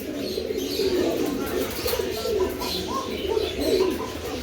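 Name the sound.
Silver Budapest pigeons cooing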